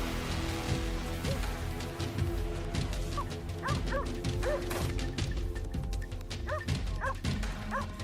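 A brown-neck hunting dog barks and yips persistently on open land during a wild boar hunt, rapid repeated barks mixed with whimpers against a steady background of rain-like noise.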